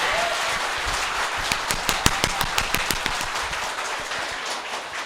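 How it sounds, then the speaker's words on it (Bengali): An audience claps in a sudden burst of hand claps, sharp overlapping strokes peaking in the middle and fading into a light scatter over a steady room hiss. "এবার জন্য হাততালি।"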